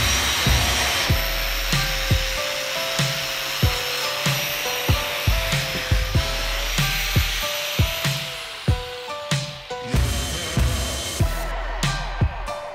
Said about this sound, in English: it's got a bit of rust and stuff on it, so I'm attacking it with the wire wheel.